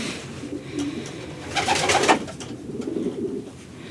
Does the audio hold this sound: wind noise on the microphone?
no